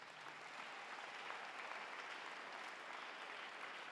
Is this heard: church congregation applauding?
yes